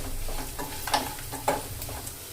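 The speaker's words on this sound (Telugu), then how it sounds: "తిప్పుకుంటూ వేపుకోవాలి మాడనివ్వకూడదు" Spices, garam masala and turmeric frying in a pan while a spoon stirs them, a steady close sizzle with a few sharp scraping strokes, no talking.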